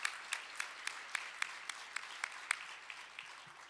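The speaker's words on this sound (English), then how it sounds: "Let's have a round of applause for our first responders here in Chicago and around the state of Illinois." An audience claps for first responders at a press conference in Chicago, a faint, sparse scattering of individual claps, fairly slow and distant, thinning out toward the end.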